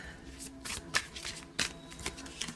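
Tarot cards shuffled by hand in soft, papery bursts, with a few sharper riffle snaps standing out against quiet room noise and no talking.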